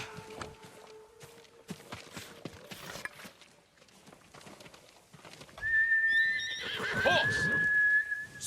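A horse in the samurai action game Ghost of Tsushima whinnies loudly and at length, with the clip-clop of hooves and footsteps earlier and a whistle-like tone during the neigh.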